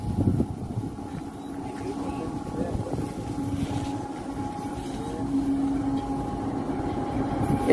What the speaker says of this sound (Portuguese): Este é o trem passando, o trem na Ferrovia Norte e Sul.